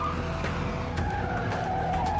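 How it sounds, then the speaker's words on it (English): A black car skids out of control through an intersection after being struck by a truck, a loud continuous tire squeal and rumbling engine noise caught on a street camera, with no talk. "The truck barrels through the intersection, hitting the black car, which skids out of control into the crosswalk."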